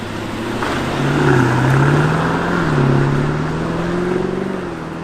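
A BMW 650i's engine drones steadily while driving, its low tone rising and falling gently with gear changes and throttle, loud and continuous with road noise and no talking.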